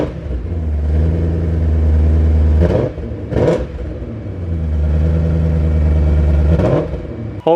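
BMW E39 M5 engine idling with a steady low rumble, then blipped through two sharp revs, settling back to a smooth idle before another brief rev, close and loud with no talk.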